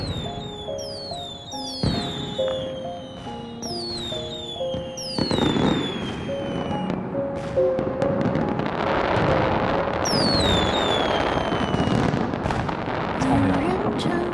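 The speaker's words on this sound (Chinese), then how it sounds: "今晚的烟花只为你一人绽放。" Fireworks shot into the night sky at an intersection outside a residential compound, a rapid series of whistling launches and crackling, booming bursts that builds into a dense, continuous barrage; people talk briefly over it.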